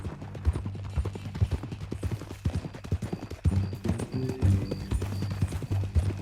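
Horse hooves clip-clop in a steady walking rhythm on hard ground in the video game Red Dead Redemption 2, close and clear over a low background hum.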